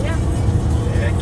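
Steady road and engine rumble from inside a car on a road trip as it picks up speed going downhill, a continuous loud drone with talk in the background.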